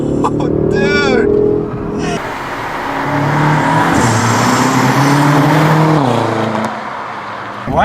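A tuned 2016 BMW M5 with Dinan modifications accelerates hard, its engine note rising loud and close for several seconds before easing and climbing again, with excited voices talking over it.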